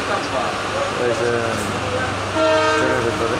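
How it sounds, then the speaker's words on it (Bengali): A local train pulls into a station with a loud, sustained horn and rumbling wheels close by, and voices are heard talking over it. "কোনোটা লোকাল ট্রেন ঢুকলো"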